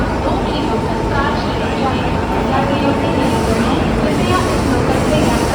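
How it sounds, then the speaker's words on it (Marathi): Konkan Kanya Express rolls into a station in Ratnagiri, Konkan: a loud, continuous low rumble and clatter of the train filling the platform, with people talking over it. "हे बघा कोकण कन्या आली"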